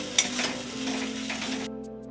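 A spiced shrimp filling with sugar and garam masala being dry-fried in a pan, giving a soft continuous sizzle with a sharp utensil tap near the start before it cuts off to near silence.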